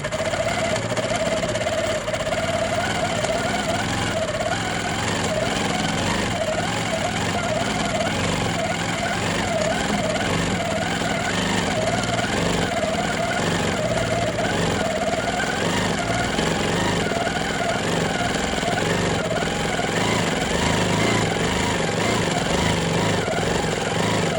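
A longarm quilting machine stitches a simple ribbon candy pattern at stitch length 12 on a quilt-as-you-go piece, giving a steady, continuous motorized whir with a rhythmic wavering hum throughout, close and alone without talk.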